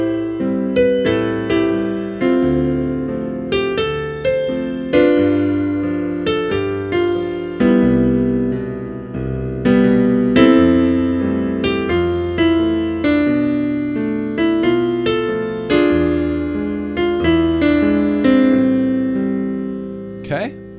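Solo piano played in a plain, beginner-like style, with steady chords and notes struck one after another for about twenty seconds, loud and close with no talking.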